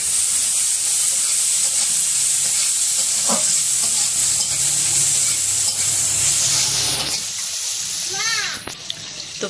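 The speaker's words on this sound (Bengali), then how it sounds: "পেঁয়াজ কাঁচামরিচ দিয়ে দিচ্ছে কড়াইয়ে" Onion and green chili frying in oil in a wok. A loud, steady hiss and sizzle runs throughout with a few stirring knocks, then dips near the end under brief sputters.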